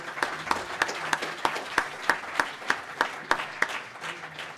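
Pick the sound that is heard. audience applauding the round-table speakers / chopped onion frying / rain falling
audience applauding the round-table speakers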